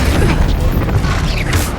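A Bombarda blasting spell in Hogwarts Legacy, a loud dense crashing burst with rumbling low end and rattling debris, continuous through the short moment.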